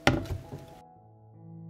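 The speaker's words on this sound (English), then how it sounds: "I put the pot on the stove." A pot holding glass jars and cold water is set down on a stove with a heavy thunk and a smaller knock right after, then a quiet lingering metallic ring.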